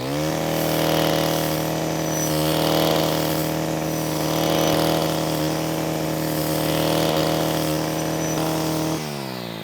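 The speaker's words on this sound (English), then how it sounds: "Just like the chisel cut tooth, the scratcher tooth will cut grass, but it's quite slow." Steady high-revving engine whine of a Stihl string trimmer fitted with a scratcher-tooth brush cutter blade cutting grass, loud and close, swelling gently in load before cutting out near the end, no speech.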